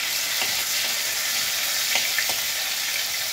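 Fish fingers made from Bombay duck fish fry in hot oil in a pan, giving a steady, close, dense sizzle that runs throughout with faint crackles and pops on top.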